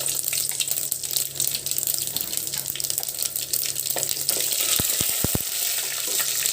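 Urad dal, mustard seeds, cumin, fenugreek and dried red chillies crackle and sizzle in hot oil for a South Indian sambar with drumstick, brinjal and raw mango, a steady frying hiss with a few sharp pops near the end.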